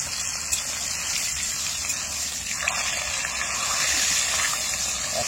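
Potatoes frying in hot oil in a village kitchen produce a steady, close, rushing hiss that holds evenly throughout and swells slightly near the end.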